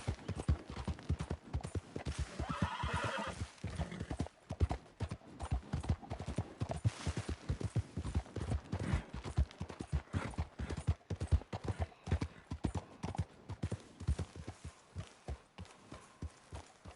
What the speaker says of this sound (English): let me take my horse